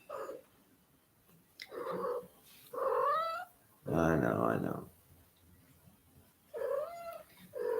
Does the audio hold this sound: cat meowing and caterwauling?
yes